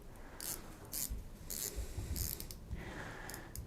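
Rotating bezel on a Zelos Blacktip slim 41mm skin-diver watch, turned in a series of crisp, close ratcheting clicks that come in short evenly spaced bursts, quiet and alone.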